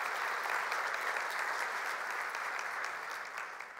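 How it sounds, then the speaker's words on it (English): A hall audience at a Duke talk on cognitive liberty applauds a volunteer named John, giving a dense, steady round of clapping that holds evenly and then tapers slightly near the end. "Everybody give him a round of applause."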